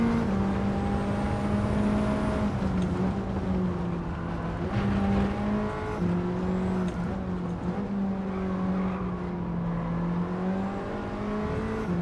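Racing cars in Gran Turismo 7 wail continuously as engines rev up and down through shifts, with one car's note prominent and close and others layered behind.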